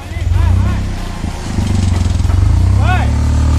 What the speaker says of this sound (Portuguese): acho que vai pegar o motor lá no chão